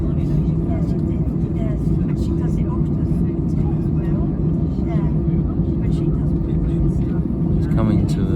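Airliner making a rolling takeoff on the runway, a steady loud low roar of engines and rushing wheels filling the cabin, continuous throughout with no break.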